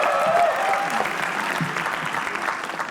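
A comedy roast audience claps for the next act, a loud burst of applause that begins dense and gradually thins, with a brief tonal whistle or voice near the start.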